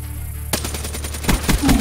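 Black Ops 3 gunfire breaks in suddenly after half a second of quiet: a quick automatic burst of sharp, close shots, with a few heavier impacts toward the end.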